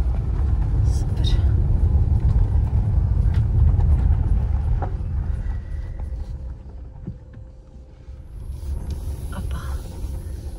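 A car turns around in a parking lot, a loud low engine and road rumble that eases and quiets toward the end, with light wind noise and a few clicks.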